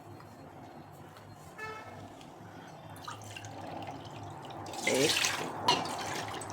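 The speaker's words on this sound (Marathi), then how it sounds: "आपल्याला पाणी टाकायचे मोजून" Measured water poured from a cup into a cooking pot for rava papad batter, a few pours and splashes with a louder gush near the end, over a quiet kitchen background.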